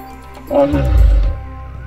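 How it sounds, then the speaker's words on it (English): A Jurassic World Sinoceratops toy dinosaur figure plays a short, loud electronic roar that swells and fades within about a second, with no talking over it. "this figure features a tail that activates the neck so you can move it around, and the sound effects as well"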